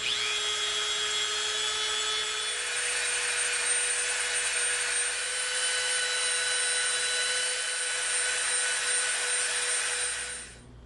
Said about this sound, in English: we're going to bevel from the bottom up to that inner line all the way around both of these